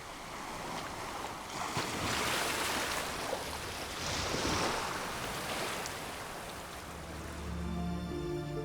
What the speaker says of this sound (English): Channeled by the rocks, the waves become more powerful.